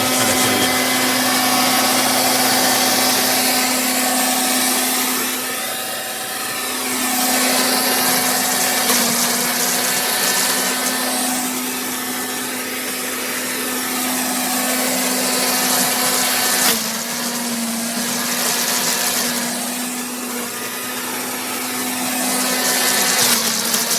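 A Worx WG430 electric leaf shredder runs loudly and steadily, its motor whine holding a constant pitch while mulched leaves roar through in three rising and falling surges; no one speaks.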